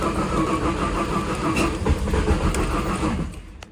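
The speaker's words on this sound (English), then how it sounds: "You guys seem to love watching me try to start this car" A Mazda RX-7 FC rotary engine cranks and struggles to start, a loud, close, rough churning drone that holds steady before tapering off at the end.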